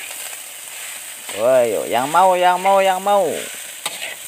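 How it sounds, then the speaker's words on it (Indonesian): Javanese-style nasi goreng mawut sizzles and gets stirred in a frying pan, a steady hiss beneath a man's loud drawn-out calling voice. "Saksikan penggorengan nasi goreng mawut cara Jawa nih."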